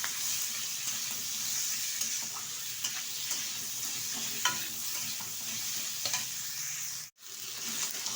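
Tomato and onion fry in ghee while a spatula stirs them, giving a steady close sizzle with scraping, tapping strokes and a brief break near the end, with no talk.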